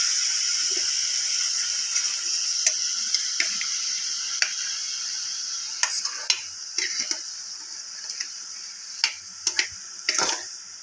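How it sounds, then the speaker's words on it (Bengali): Chopped boiled chickpeas going into a pan with water, a steady high sizzling hiss throughout with scattered clinks and scrapes of a spoon stirring against the pan, growing busier toward the end. "এবার ছোলা কুচিগুলো দিয়ে দিচ্ছি।"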